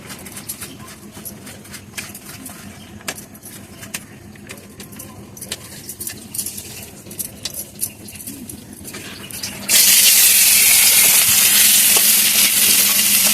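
Catla fish pieces frying in a wok while being stirred, a steady low sizzle with light scraping that bursts into a loud, bright continuous hiss near the end.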